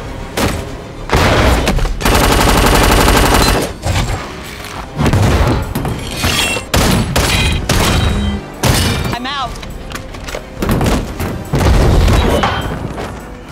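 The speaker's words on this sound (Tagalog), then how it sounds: "Sabay silang bumaril kay Rev-9 hanggang sumabog ang helicopter nito" Gunfire bursts and heavy booms from an action film scene in which two people fire on a pursuing robot until its helicopter explodes, loud and dense throughout with a sustained rapid volley early on, mixed under Filipino narration.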